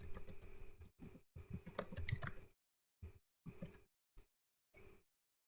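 Fingers type a string of more than sixteen characters into a name field on a computer keyboard, with close clattering keystrokes in quick runs and then a few isolated taps separated by silences.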